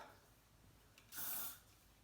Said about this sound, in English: a little spray is good about now